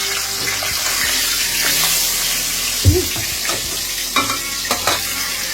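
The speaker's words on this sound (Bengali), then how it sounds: "আগে আমি এই মাছটা ভেজে নিব, তারপরে আরো অন্যগুলো ভাজবো।" Katla fish frying in hot oil in a wok gives a steady, close sizzling hiss, broken by a few soft clinks and stirring knocks of a utensil against the pan. No one talks.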